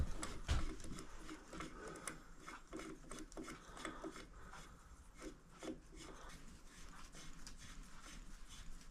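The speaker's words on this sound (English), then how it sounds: "Chain tensioner in. Put the keeper on. And wind this close." Cam chain tensioner being wound in on a motorcycle engine: close, continuous ratcheting and rubbing clicks with a steady mechanical rhythm throughout, no talking.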